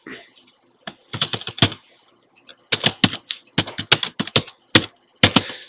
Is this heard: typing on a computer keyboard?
yes